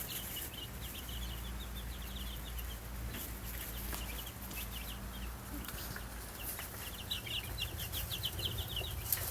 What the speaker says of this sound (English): Ain't chickens neat?